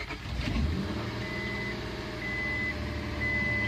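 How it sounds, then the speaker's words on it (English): A car with a freshly replaced oil temperature gauge sensor starts, giving a short cranking burst before the engine settles into a steady idle. Repeated electronic chimes sound over the idle. "I'm starting the car."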